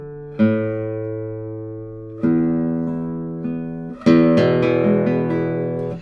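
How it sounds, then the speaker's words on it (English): Nylon-string guitar being tuned: several plucked chords and notes ring out loud and close, each left to decay before the next strum. "I need to tune it a little bit, but also all nylon strings on this one."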